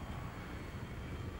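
Helicopter in the video game Battlefield 3, a steady broadband engine and rotor roar holding at an even level throughout, with no talk over it.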